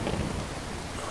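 Rain and thunder in the video game Fallout 4, a dense, even wash of falling rain with a low rumble, heard alone for a short moment.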